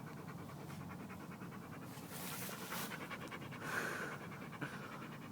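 A dog pants rapidly and rhythmically on a hot day outdoors in a field, the quick breaths close and steady, rising slightly toward the end.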